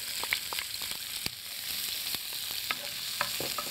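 Chopped onions frying in hot oil alongside popped seeds in an Indian-style pan, giving a soft, steady sizzle marked by scattered small crackles and pops with no one speaking.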